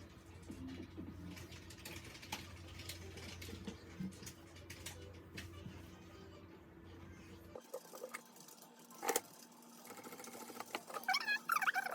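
A sewing machine topstitching a fabric neck warmer, a faint, quick mechanical chatter of the needle running for several seconds, then stopping, followed by soft handling clicks and rustles in a quiet room.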